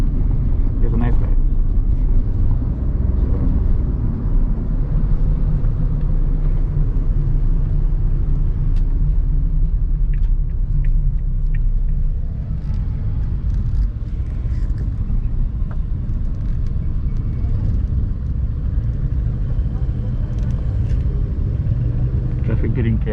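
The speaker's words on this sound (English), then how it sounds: "Traffic getting chaos on Monday morning." Busy Monday morning road traffic in Colombo, a loud constant rumble of engines with horns and clatter poking through, while people talk over the din throughout.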